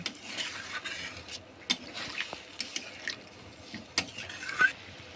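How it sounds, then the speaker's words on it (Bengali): A spoon stirs a watery fish curry with potatoes and pointed gourd in a pot, giving soft sloshing and scraping with light intermittent clinks against the metal, quiet and close. "এখন ভালো করে নাড়িয়ে চাড়িয়ে নেব।"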